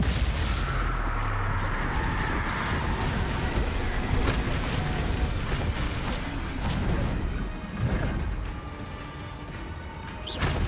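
Spell blasts and crashing impacts from a Harry Potter video game, fired repeatedly in combat near a hamlet with a troll, loud bursts over a dense, continuous rumble of battle noise.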